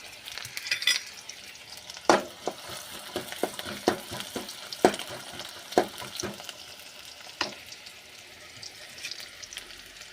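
Onions sizzle steadily in a pan for chicken fry while a spoon stirs and scrapes with sharp, irregular clacks, close by.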